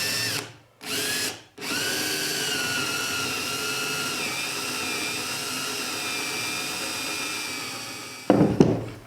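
Power drill drives a 3-inch screw into a 2x4 wood board, with two short trigger bursts followed by one long continuous whirring run, then the motor cuts off and a faint clatter follows.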